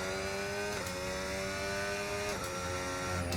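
A Formula 1 car in a video game at Suzuka revs high and climbs through the gears, each upshift marked by a quick drop in pitch, loud and continuous without talk.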